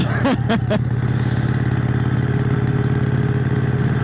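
A 1951 Harley-Davidson EL Panhead motorcycle engine runs with a steady, low rumbling idle close by, a few sharp clattering knocks near the start, then settles into an even throb.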